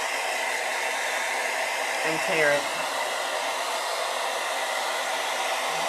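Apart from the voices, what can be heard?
hair dryer running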